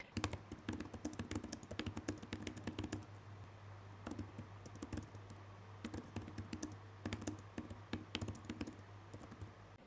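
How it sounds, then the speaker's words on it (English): Typing on the Xiaomi Pad 7 Pro's detachable keyboard: soft, shallow-travel keys clatter in quick irregular bursts with short pauses, close-miked but quiet, and no one speaks. "how about the typing experience of the keyboard?"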